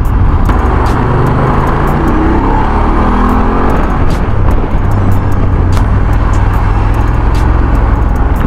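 Loud, dense road traffic heard from a BMW F850 GS motorcycle on a congested road, a continuous roar of engines and tires with a deep low rumble throughout, no talk.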